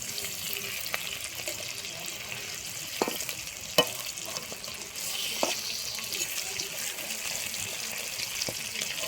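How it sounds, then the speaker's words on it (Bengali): Cabbage and egg fritter frying in a pan, a continuous bubbling sizzle with a few sharp taps and clinks, close and fairly soft, no talking. "এটাকে উল্টে ভেজে নেবো আবারও"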